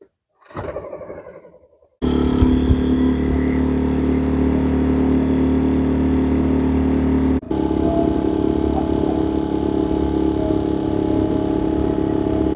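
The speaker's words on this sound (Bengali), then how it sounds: "এখন নৌকা ছেড়ে আমি আপনাদের স্পিড বোর্ডে ঘোরার অভিজ্ঞতা জানাবো।" Motorboat engine on a speedboat ride through a water body near Kolkata, a steady loud droning roar that starts abruptly after a brief opening burst and runs continuously with one short dropout.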